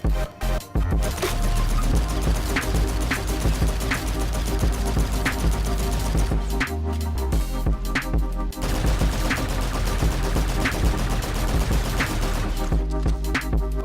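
Sustained rapid automatic gunfire from the Volk and Wrecked rifles in Call of Duty: Infinite Warfare, loud dense bursts with only a couple of brief pauses across roughly fourteen seconds.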